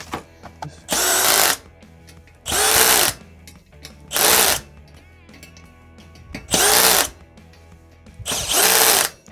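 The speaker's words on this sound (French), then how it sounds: "T'as déjà la perceuse?" Power drill mounting a disc brake on a downhill mountain bike, firing in five separate loud whirring bursts of about a second each with short pauses between them.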